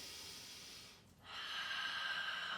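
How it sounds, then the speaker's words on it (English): A deep inhale during a yoga breathing exercise, a steady airy breath drawn in close up that rises after a brief pause and holds strong to the end, with no talking. "Inhale again."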